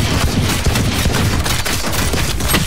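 Steady stream of rapid gunfire in Valorant, dense overlapping shots filling the whole stretch at constant loudness, with no talking over it.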